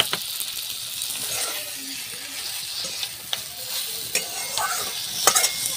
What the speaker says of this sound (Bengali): সিমগুলো বেশ লাল লাল করে ভাজা হয়ে গেছে।